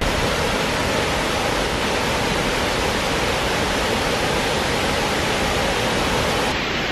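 River Irk in Manchester's Irk Valley, a continuous broadband rush of flowing water, loud and steady throughout with no voices.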